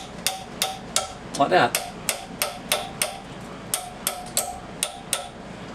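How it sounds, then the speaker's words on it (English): A hammer knocks up nails sticking out of recycled 2x4 lumber in a tiny house build, about a dozen sharp, evenly spaced strikes up close, with a brief spoken remark in between. "If I bend those nails up, you can hang stuff underneath the countertop."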